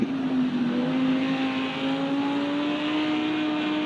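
A race car engine in the Project Cars 2 racing game, during GT World Challenge pre-season testing, holds a steady, loud, high-revving drone with a smooth tonal whine throughout, and no one speaks.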